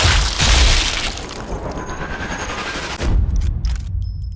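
Sniper rifle shot fired down a 100-meter range, a loud blast at the start rolling into a long reverberant tail, then a second sharp report near the end, with no voices.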